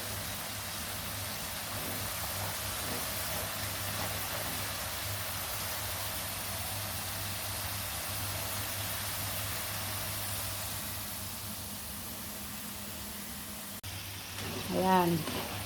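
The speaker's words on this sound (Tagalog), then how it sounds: "Magluluto ako ng french fries." French fries submerged in hot oil give a dense, even crackling hiss that runs unbroken and close, with a brief louder disturbance near the end.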